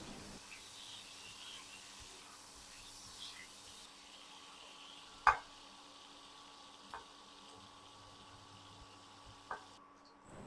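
Shrimp frying in hot oil in a wok, giving a steady soft sizzle and hiss throughout, with one sharper pop midway and a couple of fainter crackles later, with no voices.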